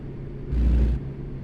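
A heavy truck engine idles with a low rumble, swelling briefly into a louder growl before settling back, steady and close, from the driving game 'Murican Truck Sim, with no voices.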